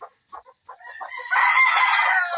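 Broody hens cluck in short, irregular bursts close by, building to a louder, more continuous squawking toward the end.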